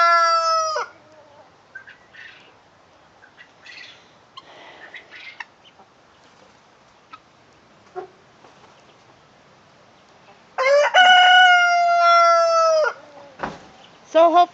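A rooster crows loudly twice on a farm, once at the start and again near the end, with scattered soft clucks from chickens and quiet stretches between.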